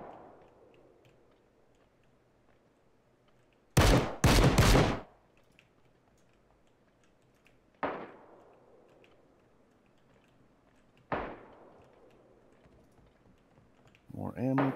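Bursts of gunfire from a PC war video game: a tight cluster of loud sharp shots, then two single cracks spaced a few seconds apart and another burst at the end, all against a quiet background.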